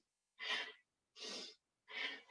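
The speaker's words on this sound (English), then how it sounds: "You're sniffing in the breath." Three sharp nasal sniffs drawing in breath during a breathing exercise, close and evenly spaced with short silent gaps between them.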